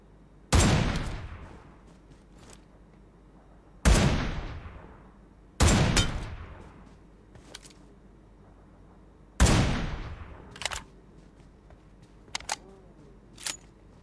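Heavy gunshots fired at a vehicle in a video game, four loud separate booms with long decaying tails spaced a few seconds apart, followed by fainter sharp clicks.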